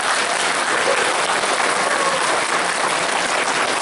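Steady, dense applause fills a school board meeting room during a textbook challenge hearing, loud and continuous from start to finish with no voices on top.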